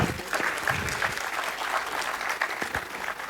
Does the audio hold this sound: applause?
yes